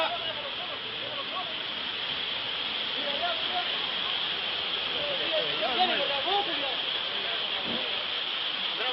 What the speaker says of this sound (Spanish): Ahora se está recogiendo el mar después de la ola que se vino